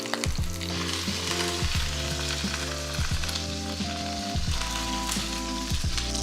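Steak searing in a hot pan gives a loud, steady sizzle and crackle, accompanied by a regular droning hum with rhythmic pulses, close and continuous.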